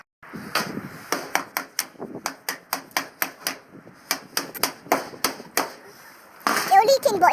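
A hammer strikes over and over on a storm-damaged wooden chicken shed, about twenty sharp, close knocks in an uneven rhythm, with a person speaking briefly near the end.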